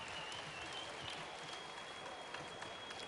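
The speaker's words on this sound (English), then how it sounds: "Give me a round of applause, ladies and gentlemen." Audience applause at a world blade shearing final, a steady dense clapping from a large crowd, even and sustained throughout at a moderate distance.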